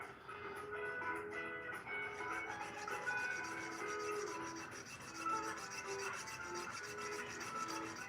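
Jeweller's saw blade cutting through sterling silver jump rings on a Durston former, a faint, steady rasping stroke repeated in quick rhythm, close and quiet, with no talk.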